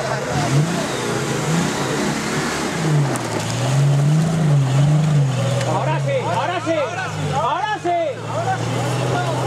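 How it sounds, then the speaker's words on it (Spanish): Nissan Patrol with an L28 engine revs hard on a mud ramp, its throttle surging up and down with a rough, gurgling exhaust clogged with mud. Excited voices shout over the engine near the end. "suena como si tuviera barro en el escape"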